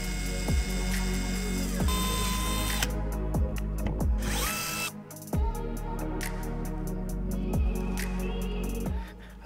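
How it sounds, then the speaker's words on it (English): A power drill bores holes in a Nissan 370Z rear diffuser in several short, close bursts, the whine rising and falling between pauses. "we can start drilling the rest of the holes on the side of this rear diffuser"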